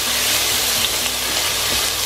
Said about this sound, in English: So now the rest of the meat comes in. I'm always frying the meat first,